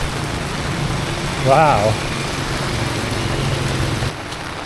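Heavy rain pours steadily in Luang Prabang, Laos, a constant roar with an engine idling low beneath it; a voice briefly exclaims partway through, and the downpour softens slightly near the end.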